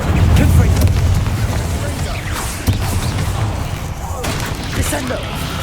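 A Confringo explosive spell blast in the Hogwarts Legacy video game, loud booming bursts and crackling impacts that land in quick succession, mixed with a spoken voice.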